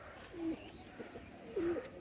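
Pigeons kept for sale give soft, low coos, two brief calls faint and somewhat distant over a quiet background hiss.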